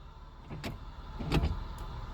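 A 1996 Nissan Maxima's rear right power window motor gives a faint, brief whir with soft clicks, low against quiet cabin background, with no voices.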